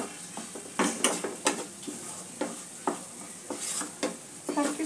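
Green chilies are stirred into a Bengali pabda fish curry in a pan. Irregular scraping strokes sound over a soft sizzle of frying, about a dozen stirs spread across the stretch, close and clear with no talking.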